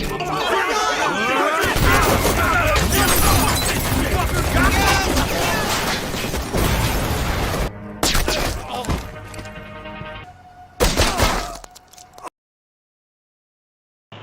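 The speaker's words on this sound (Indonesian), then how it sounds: "Pihak Rusia dan pihak Castillo baku tembak karena mereka saling mencurigai" A chaotic gunfight in the film Section 8 between Russian and Castillo factions, with dense overlapping gunfire, shouting voices and crashes, then scattered shots before silence.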